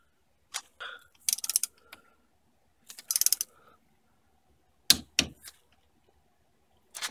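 Clicking ratchet bursts from a torque wrench tightening the front brake caliper bridge pin bolt on a 2005 Pontioc GTO during a Brembo brake upgrade, several short close clusters of mechanical clicks separated by pauses.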